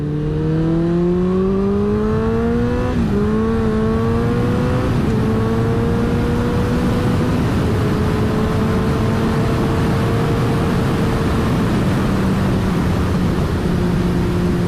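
A stretched and lowered Kawasaki ZX-14R motorcycle accelerates hard while being ridden, its loud engine note climbing in pitch, dropping briefly at a gear change, then pulling up again against constant wind roar.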